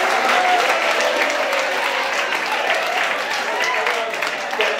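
Sustained audience applause at a Marathi book event, a dense, steady clapping from a crowd close by that holds at full loudness throughout with no break.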